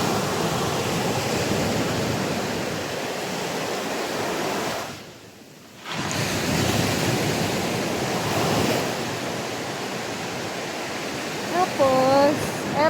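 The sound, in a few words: strong ocean waves at Batangas beach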